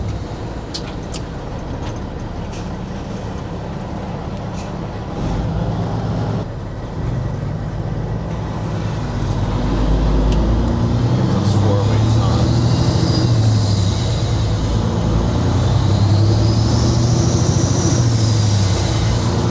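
A Kenworth W900 truck's engine drones low and steady, then builds louder and rougher partway through as the revs climb, with cab rattles and a few sharp clicks over it.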